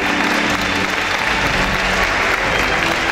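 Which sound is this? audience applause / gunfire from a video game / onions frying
audience applause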